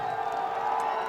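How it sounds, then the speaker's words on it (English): A football stadium crowd at a South Dakota State Jackrabbits FCS playoff game against Eastern Illinois makes a sustained, distant roar of cheering at a steady level across the whole moment. "This Jackrabbit crowd well below capacity, but they have been loud at times today"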